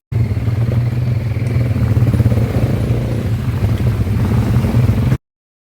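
A quad bike engine drones loudly and steadily during an off-road dirt ride in Bali, a close rough motor rumble with wind buffeting the microphone, then cutting off abruptly.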